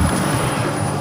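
A beginner remote-control trainer airplane with a self-stabilizing flight controller flies on its first flight, its motor and propeller giving a loud, steady, close drone.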